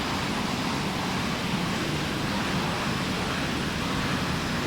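Engines of an MD-88 airliner in a flight simulator, a steady broad roaring rush with a low rumble, constant and fairly loud with no talking.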